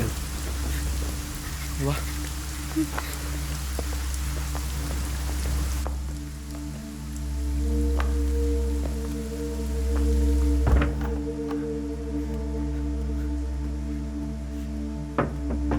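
Heavy rain pours steadily onto a surface throughout, a dense constant wash with occasional louder drops and thunks, while a person speaks briefly over it.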